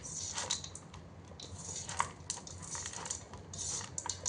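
Puffed rice snack ingredients for bhel puri being tossed and mixed in a tall bowl, with light scraping and clinking of a spoon against the bowl and soft rustling of the dry puffed rice, close and fairly quiet.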